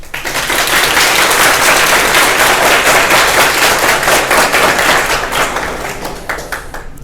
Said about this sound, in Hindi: so first of all clap for your school